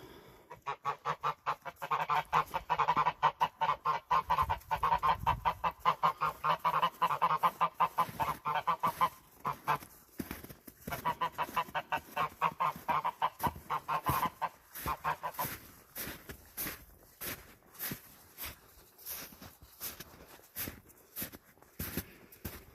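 A flock of Toulouse geese honks repeatedly in loud, rapid bursts, the calls overlapping and continuing for a long stretch, thinning out toward the end.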